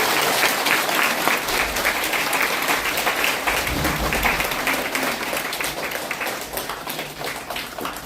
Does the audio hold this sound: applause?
yes